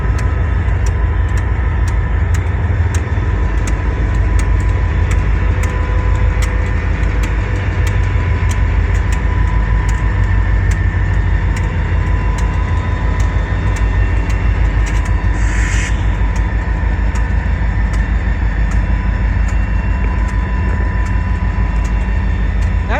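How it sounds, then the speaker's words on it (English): Pair of SD40 diesel locomotives backing a CSX train into Rice Yard, a steady low roaring engine drone that holds constant and loud throughout, with a faint higher hiss briefly rising midway. "You hear the roaring sound of the locomotive."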